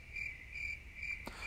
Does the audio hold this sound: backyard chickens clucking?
no